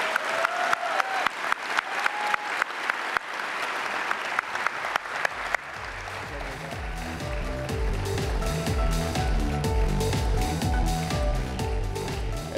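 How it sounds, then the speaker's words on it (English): Audience applause at the Oregon Sports Awards ceremony for the Play It Forward winners; scattered claps build into a full, sustained round of clapping from a large crowd that swells and continues steadily. "Let's give one more round of applause for our Play It Forward winners."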